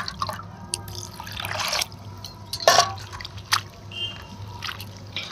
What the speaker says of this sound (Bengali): ভালো করে কিন্তু 3 থেকে 4 বার ভালো করে এভাবে ধুয়ে এই সমস্ত নোংরাটা ফেলে দেবো।